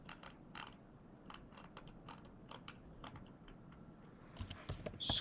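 Rapid keystrokes on a computer keyboard while text is entered into an AutoCAD Web drawing, light irregular clicks close by with a few quick bursts, no talking.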